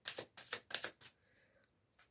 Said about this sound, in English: I'm going to draw a last card from this deck